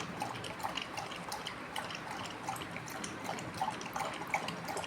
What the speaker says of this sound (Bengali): এই দেখো জিমি জল খাচ্ছে